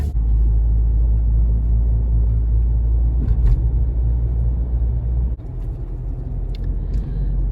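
Car driving on a road, heard from inside as a loud, steady low rumble of engine and tyres with a slight drop in level near the end, no talking.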